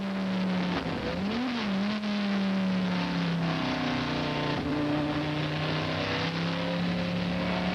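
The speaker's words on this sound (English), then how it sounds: "Olivier Beretta at work, Sunday afternoon drive, whistling down the front straight at Monza as fast as you like" A 1999 Dodge Viper GT race car, driven by Olivier Beretta, screams along the Monza front straight in an FIA GT Championship race, its engine holding a loud, steady high-speed drone with slight pitch shifts and no talk.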